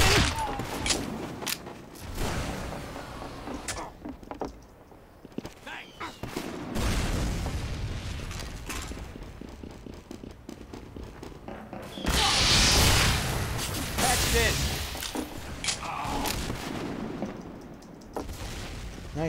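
Gunfire in a TF2-style shooter game, a busy stretch of repeated shots and bursts with booms and rapid firing that rises and falls in intensity, with someone talking at times over the action.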